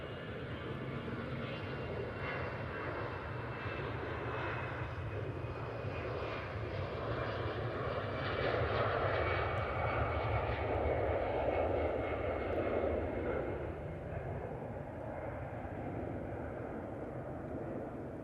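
A jet airliner roars steadily at Manchester Airport, its broad engine noise building and holding throughout with a brief swell near the middle, no voices over it.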